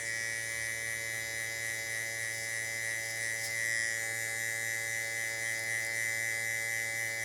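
Electric hair clippers with the lever set halfway buzz steadily and loudly while fading hair, a constant close-up drone with no pauses.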